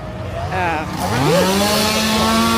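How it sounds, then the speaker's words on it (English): A chainsaw engine at a haunted house attraction revving and droning steadily, loud and close, its pitch rising and then holding. "I hear chainsaws."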